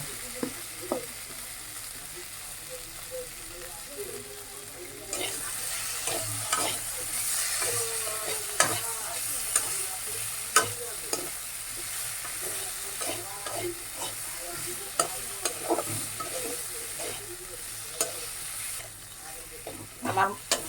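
Sweet pumpkin stir-fried in a pan sizzles steadily, with a spatula scraping and tapping against the metal in irregular strokes; the frying hiss grows stronger after a few seconds and continues close and alone.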